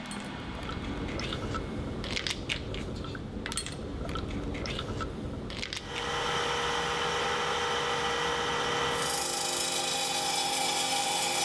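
Glass being ground by abrasion with a diamond tool under running water, a rough gritty grinding that shifts into a steadier, brighter hiss and whine of the machine with water, continuous and close, no talking.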